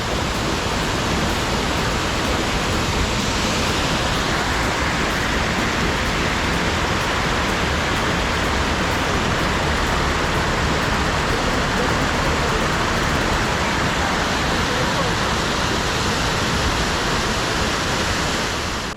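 Heavy rain close to a waterfall in Limón Indanza in Ecuador's eastern jungle region, a loud, dense, unbroken hiss of falling water and rain that stays steady for the full nineteen seconds.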